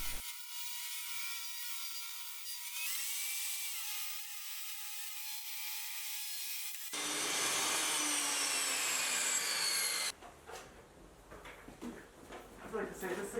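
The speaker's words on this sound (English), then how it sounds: "trimming the boards down on the table saw so they could fit through the thickness planer vertically" A thickness planer feeds maple boards for a desk build, giving a loud, continuous machine roar with a rough cutting rasp. The noise shifts in tone partway through, then gives way to quieter workshop handling sounds.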